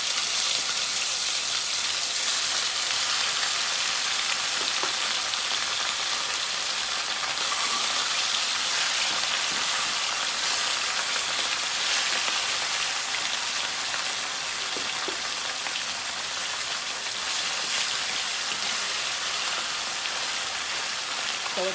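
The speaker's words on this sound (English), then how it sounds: "So we're gonna let that fry up." Fish sizzles steadily in hot oil for a Jamaican brown stew fish, a loud, dense, continuous crackle and hiss that runs without a break and with no voices over it.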